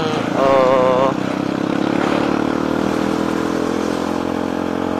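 A Kawasaki D-Tracker 150 SE street motorcycle runs close by with a steady engine drone, a brief higher revving tone early on, then settles into an even idle-like hum.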